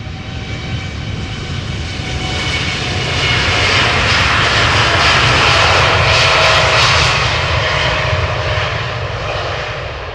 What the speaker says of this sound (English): you are watching departures from the Polderbaan, runway 36 left, over here at Schiphol Airport